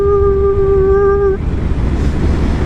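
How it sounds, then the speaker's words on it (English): Wind noise while riding a Yamaha FJR motorcycle: a loud, close, broadband rush with a steady tonal whine that cuts off partway, leaving rougher buffeting. "Suddenly there was wind and then suddenly there wasn't."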